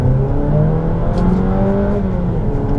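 A Jeep Renegade 2.4L AWD Limited accelerates in first gear from inside the cabin, its engine note climbing steadily in a loud, sustained drone with rising harmonic tones.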